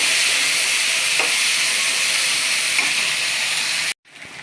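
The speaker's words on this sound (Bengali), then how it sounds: "লুব্বাটি ভাজিয়া" Lubba frying in a pan gives a loud, steady sizzle and hiss that runs unbroken for about four seconds, then cuts off abruptly into quieter kitchen noise.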